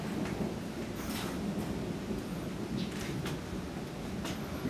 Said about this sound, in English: You can probably hear it thundering around me.